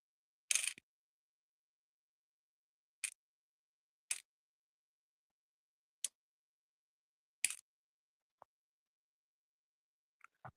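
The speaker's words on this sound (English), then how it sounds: "Put these screws back in my little screw tray." Small screws drop one at a time into a little screw tray on a workbench, making five sharp metallic clinks spaced a second or more apart, then a few faint ticks in near silence.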